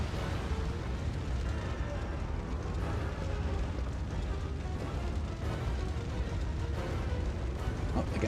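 A gas station explodes and burns in Resident Evil 3: a continuous heavy, low rumbling roar of blast and fire, steady and loud throughout, with a voice faintly audible at moments.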